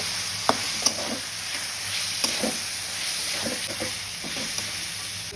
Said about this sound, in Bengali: ততক্ষণ নাড়তে থাকবো যতক্ষণ এটা ভাজা না হয়ে যায়।